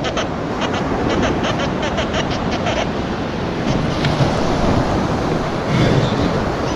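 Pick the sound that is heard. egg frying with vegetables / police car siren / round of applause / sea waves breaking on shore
sea waves breaking on shore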